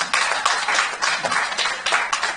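Applause from a Rotary district conference audience, a steady patter of many hands clapping close by for a couple of seconds, with no talk over it.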